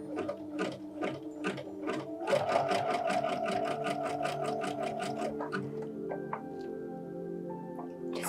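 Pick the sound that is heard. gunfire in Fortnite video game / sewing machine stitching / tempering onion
sewing machine stitching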